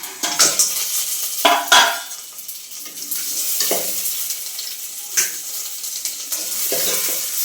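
Crab pieces drop into a hot pan and are stirred, with sharp sizzling bursts as they hit the oil, then steady frying hiss under scraping spatula strokes and occasional clinks of metal on the pan.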